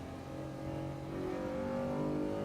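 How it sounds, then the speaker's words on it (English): Engine of a mid-engine V6 car in Assetto Corsa Evo at Brands Hatch, a steady droning tone that climbs slightly in pitch as it accelerates, close and alone without voices. "Now this is a mid-engine car, V6."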